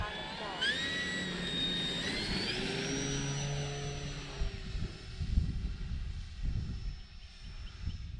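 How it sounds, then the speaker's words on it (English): A Timber EVO model airplane flies over a park in light crosswind, its engine a steady whine that rises in pitch as it climbs away, holding on as a fainter tone under some wind rumble. "Well, let's see if we can fly this plane."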